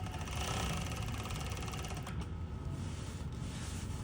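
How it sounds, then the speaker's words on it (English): Overlock sewing machine stitching and trimming fabric at a slow pace, a steady close mechanical whir with rhythmic needle chatter running throughout. "it would be the actual stitching of the overlock machine"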